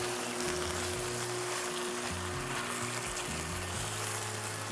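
Onion fries for an estofado with bay leaf and salt, giving a steady, dense sizzle that fills the whole moment at an even level with no voices.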